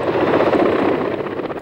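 Helicopter of the Mi-28 or Ka-52 type gives a steady, loud rotor and engine roar that holds at a constant level with no pauses and no talk over it.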